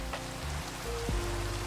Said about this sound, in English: It seems to be a regular rain event